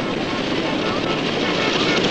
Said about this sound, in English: The last helicopter came in for a handful of US Marines